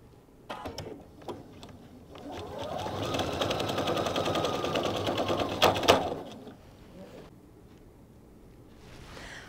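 A sewing machine stitches quilt pieces together in one steady run of rapid motor whir and needle clatter, rising and then stopping partway through, with quiet room sound before and after.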